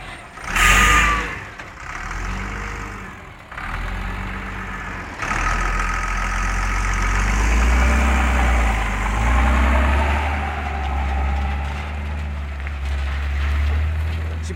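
A car with a freshly replaced engine roars through a sharp rev, settles into a deep idle, then holds a loud, rough, steady rumble close by.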